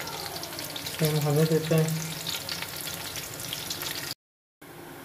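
Onions frying in oil toward golden brown for chicken pulao: a constant crackling sizzle with a person talking over it, briefly cutting out to silence near the end.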